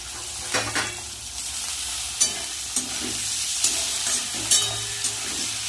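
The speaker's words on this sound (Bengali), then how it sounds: "বিনস গাজর ভাজা হয়ে গেছে হালকা এবার ক্যাপসিকামটা দিয়ে দেবো" Beans and carrots sizzle in a pan under a steady frying hiss, punctuated by scattered stirring scrapes and clicks from a spatula as capsicum is added.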